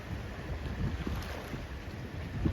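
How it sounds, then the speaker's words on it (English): Strong wind blowing down a mountain lake kicking up whitecaps, a steady roaring rush of air with buffeting gusts against the microphone, continuous and close, no talk. "The wind's coming right down the pipe today, making for some whitecaps"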